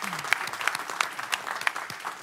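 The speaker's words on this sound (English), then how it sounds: "everyone, give them a really big round of applause" Audience applause at a city council meeting, a steady wash of clapping with a few sharper claps standing out, sustained through the whole stretch at moderate room distance.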